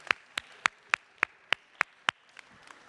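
Clapping at a school junior orientation, heard as about eight slow, evenly spaced single claps, faint and somewhat distant, with the room otherwise quiet.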